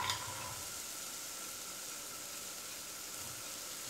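Red onion sizzles in hot coconut oil in a pan, a steady, even hiss that holds for the whole stretch, fairly close and alone with no talk.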